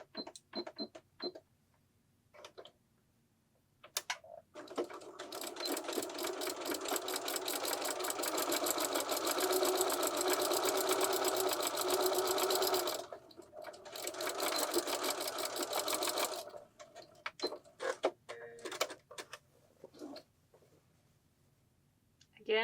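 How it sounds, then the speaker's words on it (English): A sewing machine runs in a long, steady buzzing burst, then a shorter second run, stitching along the edge of a fabric tab on a wine gift bag; the runs are separated by brief pauses and scattered small clicks. "you're going to move down and stitch right along the edge just of the tab"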